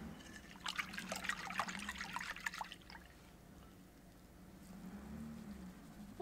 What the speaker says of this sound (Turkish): Daha sonra 1 kahve fincanı sıvı yağ ekliyorum.